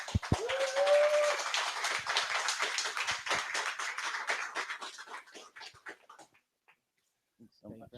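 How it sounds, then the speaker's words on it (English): An audience at a talk event gives a speaker a round of applause: steady, dense clapping with a short whistle near the start, thinning and fading out after about six seconds into near silence. "please give a round of applause for Perry Yee"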